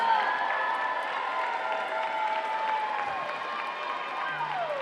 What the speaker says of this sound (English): let's give a round of applause for the awards for the women's 3-meter springboard diving event.